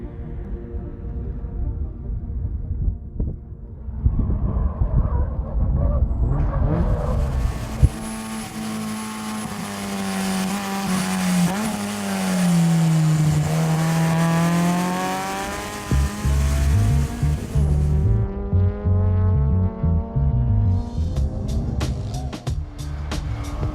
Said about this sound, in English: I'm driving a 2014 Subaru BRZ. We have a Jackson Racing supercharger on here